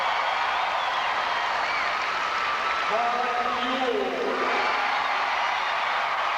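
A crowd at a 1988 state-final high school basketball award ceremony applauds steadily in a large arena, the clapping sustained beneath a voice talking over it.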